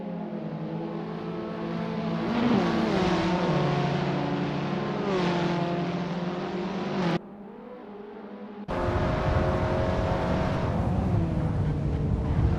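Abarth 500 race cars race at LuccaRing in Assetto Corsa, their engines droning loudly with rising revs and gear shifts. There is a brief dip to a quieter engine note, then a return to a strong, buzzing roar.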